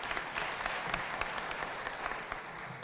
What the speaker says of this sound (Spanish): Un abrazo y un aplauso para Ginette.